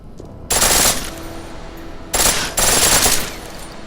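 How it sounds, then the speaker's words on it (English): A pistol fires on full auto in Deus Ex: Mankind Divided, with two loud, sharp bursts of rapid shots and a third burst close behind, separated by short quieter gaps. "Pistol in full auto will take down targets fast, but it'll burn through your ammo."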